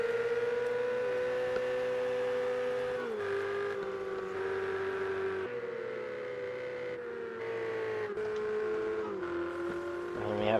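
A Ferrari 488 Challenge race car in Project Cars 2 at Sonoma Raceway accelerates out of a corner, its engine note climbing through repeated upshifts with brief dips between gears, steady and continuous under commentary.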